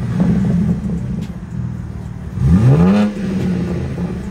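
BMW M4 G82 engine revving once in a short rising roar, near and loud, settling back to a steady idle rumble after a few seconds.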